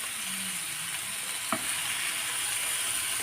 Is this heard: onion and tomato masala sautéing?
yes